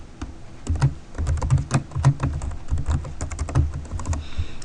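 Rapid clattering keystrokes on a computer keyboard as code is typed during a lecture, close and continuous with brief pauses, no speech.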